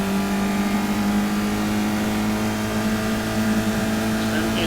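Caterham race cars scream around Cadwell Park during a Roadsport race, a sustained loud engine drone with steady harmonic whine and no pauses, under faint commentary.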